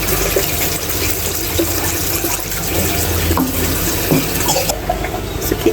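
Water poured into a wok while seafood fried kuey teow cooks, a steady close hiss and splash of liquid running continuously over the sizzle of the pan.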